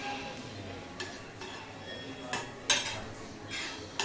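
Ragda being mixed with tamarind chutney in a pan for Indian street-food chaat gives irregular metallic scraping and clinks of a spoon against the pan. Several louder knocks stand out over a steady low kitchen hum.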